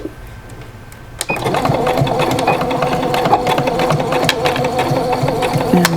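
A sewing machine runs steadily as it stitches around the edge of a fabric eyeglass case at a quarter-inch seam, a continuous near, loud mechanical whir beginning after a brief quiet start.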